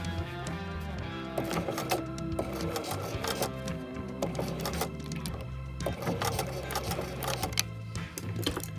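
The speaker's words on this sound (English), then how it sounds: "we're going to start by sewing forward a little bit and then putting our needle down and then pivoting and sewing up the garment" A sewing machine stitches up a garment seam during mending, a steady close rhythmic whir of rapid needle strokes running continuously with brief changes in pace.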